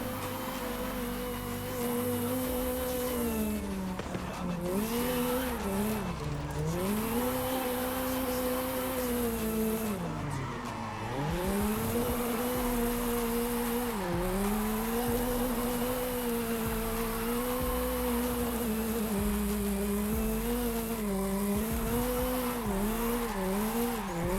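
A Toyota AE86 with a tuned stock engine drifts in Forza Horizon 5, its engine whining and dipping through repeated slides while tire squeal rises over it, loud and continuous, with no talk.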